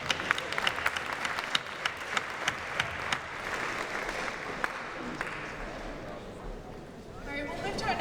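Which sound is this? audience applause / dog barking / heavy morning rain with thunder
audience applause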